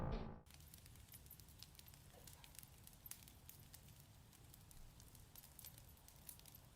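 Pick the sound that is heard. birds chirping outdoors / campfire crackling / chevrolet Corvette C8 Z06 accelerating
campfire crackling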